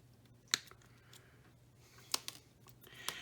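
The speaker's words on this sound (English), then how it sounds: "we're going to cut this back about of 1/4 inch. We're going to trim it here, there, and we're going to cut this into a point" Cutting lead came for a leaded glass lantern, a few sharp, quiet snips spaced out over near silence, close up with no talking.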